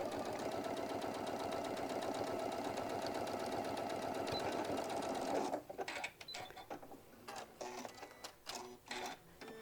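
A sewing machine stitches a hobo bag in a steady run, then breaks into short stop-start bursts as the fabric is rotated corner by corner.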